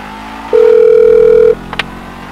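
A speakerphone dial tone in GTA V sounds as one steady, loud electronic tone lasting about a second, followed by a couple of faint clicks.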